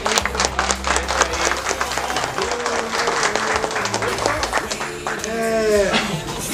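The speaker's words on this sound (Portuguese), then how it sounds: "então uma salva de palmas pra ele." Audience applause fills the hall at a community gathering, a steady wash of clapping with a low rumble, and voices speaking over it toward the end.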